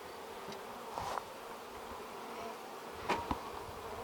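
Honey bees in a hive fan their wings, a soft continuous buzzing hum with a few brief louder buzzes as individual bees pass close.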